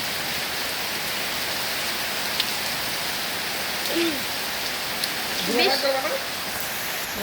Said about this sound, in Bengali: প্রচুর পরিমাণে বৃষ্টি হচ্ছে আর অন্ধকার